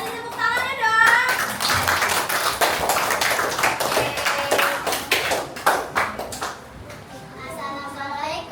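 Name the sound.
classroom applause for a presenting group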